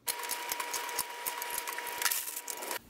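Metal washers drop onto the studs of a rocker box on an AMF Harley-Davidson Shovelhead engine under restoration. They make quiet, close, irregular light metallic clicks and taps in a rapid scatter.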